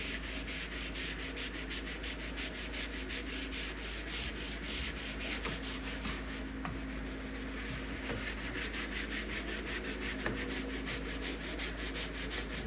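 A Magic Eraser sponge scrubs an arcade machine part with quick, continuous back-and-forth rubbing strokes. The scrubbing is close and fairly quiet, in a rapid, even rhythm, with no talking.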